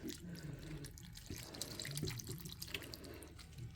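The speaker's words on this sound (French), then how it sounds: "Mais je vais rajouter de l'eau dedans." Water poured into a small pot holding an alocasia bulb: a faint, steady trickle and splash with a few drips, quiet and continuous throughout.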